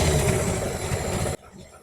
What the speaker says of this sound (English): We get a few hand revs in and it's on the way and it's ready to go.